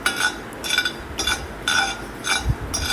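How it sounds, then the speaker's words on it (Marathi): Six spoons of coriander seeds dry-roasted in a pan for sambar masala: rhythmic, close scraping and rattling strokes of stirring, repeating about every half second with no talking. "आता मी ते सहा चमचे धणे घेतलेले ते आपण धणे भाजून घेणार आहोत"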